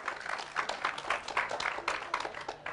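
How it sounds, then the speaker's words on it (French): Applause from an audience after a poetry performance at a spoken-word show, steady dense clapping, fairly quiet and distant, with no voices over it. "Une fois de plus, un tonnerre d'applaudissements pour Fatoumata."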